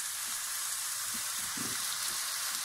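Ginger and garlic sizzle in a hot pan for a sweet and sour chicken stir fry, a faint, steady frying hiss with a few soft stirring bumps and no voices.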